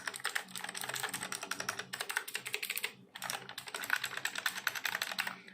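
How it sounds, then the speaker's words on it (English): Fast typing on a Kmove Dolch mechanical keyboard gives crisp, close, bright key clicks in rapid bursts, with a short pause near the middle and another before the clatter resumes. "you can see the keyboard clicking sound."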